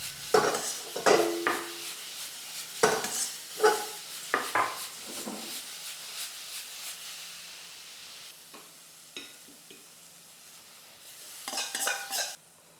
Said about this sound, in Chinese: 然后我们就继续大火爆炒一个15秒就可以出锅了